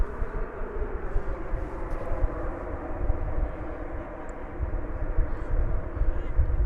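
At DFW Airport, a passenger airliner on arrival produces a loud, sustained roar of jet engine noise, broad and rumbling, rising and falling slightly as it passes.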